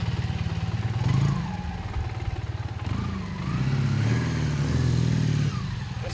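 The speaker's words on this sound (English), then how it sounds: "Nice and quiet until you get on the gas. It's got a nice rumble to it" A 1979 Honda CM400A motorcycle engine runs up close with a low, throbbing rumble, its pitch rising and falling as the throttle is blipped and eased off, with no one talking.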